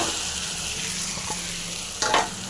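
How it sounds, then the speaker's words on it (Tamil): Peeled radish sizzles and fries in a spiced tomato masala for a Tamil kara kuzhambu, a steady close hiss with a brief stirring scrape near the end. "முள்ளங்கி போட்டு அப்படியே ஃப்ரை பண்ணிங்க"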